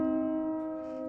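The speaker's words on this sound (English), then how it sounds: "The Novum decimal minor third, which is 23 against 19," A microtonal keyboard sounds a lifted super minor third, tuned 23:19, as a single steady, bell-like sustained dyad, soft and alone.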